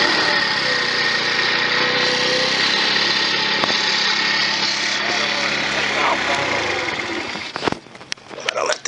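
A 50cc scooter engine idles a little high, a steady, close buzzing drone that holds evenly before ending in a few uneven knocks and rattles.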